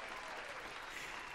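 A dense, even patter of audience clapping at a circus washes through steadily at a moderate distance, with no single claps standing out and no talk on top.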